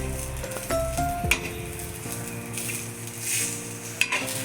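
Ground masala for a Goan oyster gravy is roasted in a pan, with a soft sizzle, a spoon scraping and stirring, and occasional metallic clinks over a tonal background.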